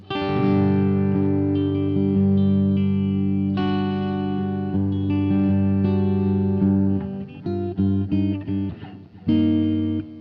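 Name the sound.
slightly distorted electric guitar tone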